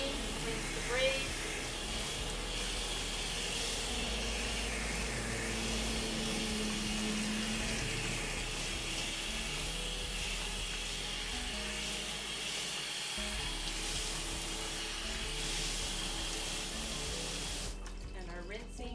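Running water from a tap rinses conditioner out of braided curly hair, a steady close hiss and splash that holds nearly unbroken throughout, with faint flow changes and a cutoff near the end.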